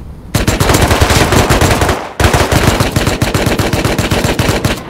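Automatic gunfire in the survival video game Rust, with two long loud bursts of rapid shots separated by a brief pause.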